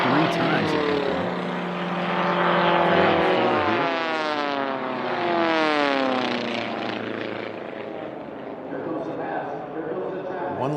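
Formula 1 class racing airplanes at a national championship air race roar past with a sweeping Doppler engine drone that rises and falls, loud and continuous throughout, with a commentator talking over it.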